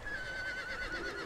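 In the Conan Exiles video game, a horse gives a brief, quiet whinny over low background ambience.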